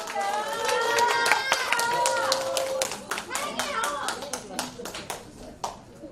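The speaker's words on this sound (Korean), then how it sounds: "정자 선생님 박수 한 번 주세요" An audience claps in welcome for a traditional Korean fan dance at a singing-instructor course graduation, the clapping steady and close while a voice speaks and sings over the first half.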